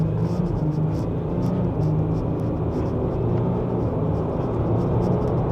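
Ford Ranger Limited 2026 pickup accelerating hard at full throttle, a steady loud engine rumble and road noise heard from inside the cabin, with faint ticking on top.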